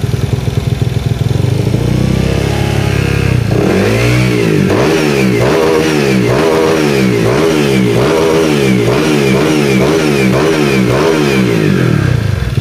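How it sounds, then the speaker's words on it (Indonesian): A Honda Vario scooter with a 59mm bore-up and remapped engine revs hard and loud, the throttle blipped repeatedly in a steady rhythm of rising and falling bursts after a rough idle, close to the exhaust. "ini engine-nya udah nyala"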